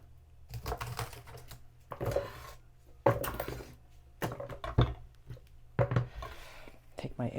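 A knife chops a vegetable into thirds on a cutting board, a handful of distinct knocks spaced irregularly between stretches of talking.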